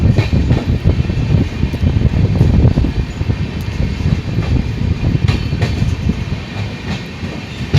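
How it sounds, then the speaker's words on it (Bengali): A passenger train, No. 15655 from Guwahati to Katra, rumbles loudly and steadily through Mukerian railway station, wheels clacking over rail joints with a continuous rolling roar. "এখন মুকের স্টেশন ক্রস করছে।"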